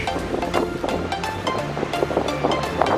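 Waves wash onto a beach near Charlottesville with a continuous rushing surf, mixed with gusty wind buffeting the microphone and no voices.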